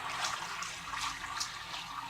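Water pours into an E3 electrocoagulation water treatment unit, a soft, steady trickling wash heard close and fairly quiet for about two seconds.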